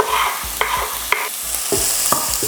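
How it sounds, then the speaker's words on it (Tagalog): Garlic and onion sautéing in hot oil in a pan, a constant sizzle broken by repeated stirring scrapes and utensil knocks in a loose rhythm, close and fairly loud, with no voices. "lutuin natin yung bawang habang papainit pa lang yung mantika. Maglalagay na ako dito ng sibuyas."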